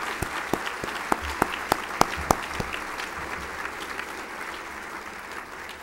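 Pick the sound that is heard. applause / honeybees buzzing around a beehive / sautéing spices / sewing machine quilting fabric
applause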